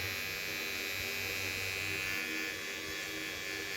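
Kemei cordless detailer hair clippers running at their second power level give a steady, close, high buzzing whine with a constant hum underneath and no talking.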